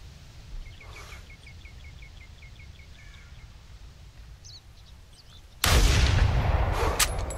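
A 7mm Magnum rifle fires once at a moose in theHunter: a loud, sudden boom with a lingering rumble, following quiet woodland ambience with faint repeated bird chirps.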